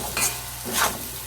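Grated ginger is stirred into frying mung dal for a papaya ghanto dish. Two quick scraping strokes of a spoon sound over a soft, steady sizzle.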